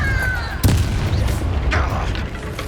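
A Confringo spell explodes in the video game Hogwarts Legacy, giving a sharp, loud boom that rumbles briefly, followed by softer impacts and a whooshing tail under the game's ambient hum.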